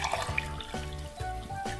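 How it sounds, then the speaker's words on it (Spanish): Water poured from a tap into a cup, a short close trickle with splashy drips and a gurgling pitch that changes as the cup fills. "Llenamos la taza"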